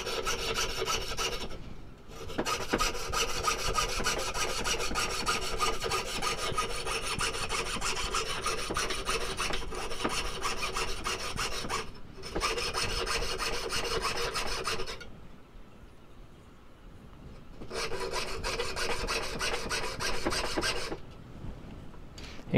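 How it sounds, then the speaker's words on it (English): Hand saw cutting through a wooden spoon handle, a steady close rasping of back-and-forth strokes in long runs, broken by short pauses between bouts of sawing. "Kind of hear the change of the sound in the saw and really tell whether it's cutting or not or just sliding."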